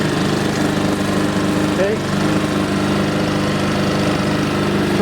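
A new Honda HRX217HYA walk-behind lawn mower engine runs steadily and loudly close by, an even buzzing drone throughout, with one brief spoken word over it.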